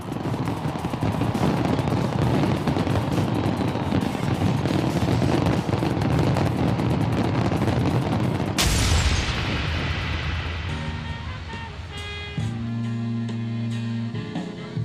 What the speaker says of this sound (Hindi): रियो डी जेनेरियो में 2016 के वेलकम में जबरदस्त आतिशबाजी शुरू हो गई